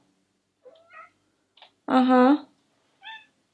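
Pet cat meowing at home, a few short chirpy calls and one longer, louder meow up close, with a brief spoken interjection.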